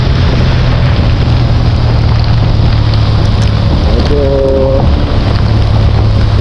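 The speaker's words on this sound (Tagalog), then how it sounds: "Heavy rain talaga ito dahil sa bagyo." Heavy typhoon rain pours down at a campsite in Tanay, Rizal, a loud, steady, dense roar that fills the whole stretch, with a brief tonal sound partway through.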